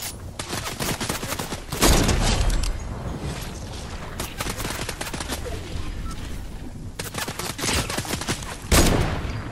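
Shots ring out in Fortnite Chapter 4 Season 2, with two loud, sharp reports standing above a busy bed of continuous game gunfire and clatter.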